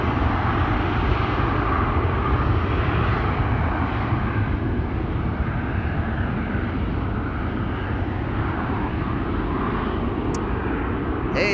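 A KLM Embraer 190 jet takes off from Amsterdam Schiphol, a loud, steady broadband engine roar that holds strong throughout without speech.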